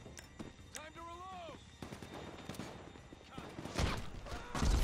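Gunfire in Grand Theft Auto 5, scattered sharp shots of moderate loudness, some distant, heard beneath several people chatting and reacting during an online game session.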